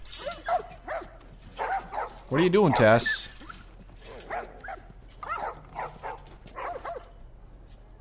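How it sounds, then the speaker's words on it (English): Dogs in The Last of Us video game yip and whimper in a short burst mid-scene, with steady game dialogue and character voices talking throughout around them. "These dogs are all accounted for."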